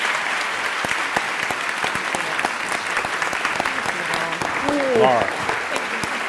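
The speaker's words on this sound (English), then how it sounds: "let's give a big round of applause for Ms." Audience applause at a leadership discussion event fills the room with steady, dense clapping from a large crowd, while a voice briefly speaks over it.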